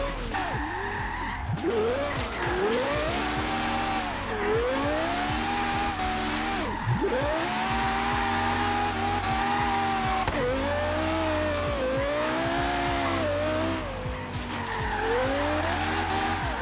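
A Ferrari FXX drifting in Forza Horizon 3, its engine revving hard in repeated swooping surges while the tires squeal continuously, loud and close throughout.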